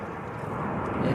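A British Airways A320 airliner from Heathrow lands at Manchester Airport. Its engines give a brief, steady, broad roar at moderate distance that swells slightly toward the end.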